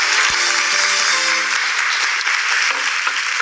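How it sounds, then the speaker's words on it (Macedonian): A studio audience on the Macedonian game show Се или Нешто gives loud, dense, continuous applause that holds steady for the whole stretch. "Аплауз за почеток, јас така го велам"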